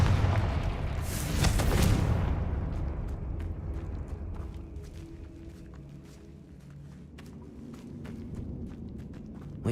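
A Confringo blasting spell explodes in Hogwarts Legacy with a loud, heavy boom and a rumbling burst that fades over a couple of seconds. Soft footsteps and faint clicks carry on afterward.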